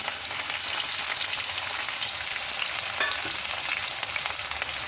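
Five to ten sliced shallots and two green chillies fry in a pan for a horse gram and moringa leaf thoran, giving a steady, close, crackling sizzle throughout with no talking.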